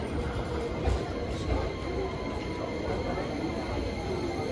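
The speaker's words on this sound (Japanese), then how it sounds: "あ、回送電車なんだ。" An out-of-service JR 225-series train rolling through Kyoto Station, a loud, close rumble of wheels and low mechanical drone with a couple of heavier thumps from rail joints, steady throughout with no talk.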